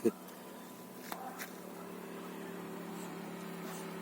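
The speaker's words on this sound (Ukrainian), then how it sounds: "Давай почекаємо поки мотоцикли тут поїздять." Motorcycles ride around a rural farmstead, heard as a faint, steady engine drone that holds at a distance through the whole stretch without clear passes.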